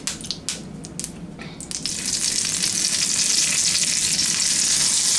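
Raw peeled shrimp hit a hot oiled pan, a few light knocks and crackles giving way after two seconds to a loud, steady, close hiss of sizzling that holds to the end, with no talk.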